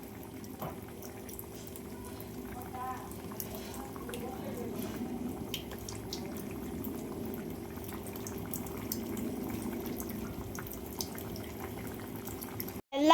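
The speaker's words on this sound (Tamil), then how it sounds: "குழம்பு நல்லா கொதிச்சிச்சு." Viral (murrel) fish curry bubbling in a pot, a steady low simmering and popping texture with faint drips, continuous and close, with no voices over it.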